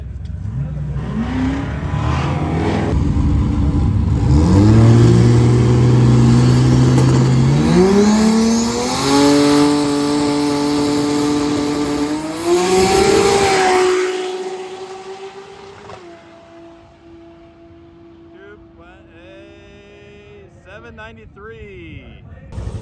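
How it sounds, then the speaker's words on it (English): A Chevrolet Camaro with a swapped 2JZ engine accelerates hard, its loud engine note climbing through several gear changes before easing off to a lower drone, with people talking over the noise. "today we're going to be racing my Camaro with the 2JZ in it"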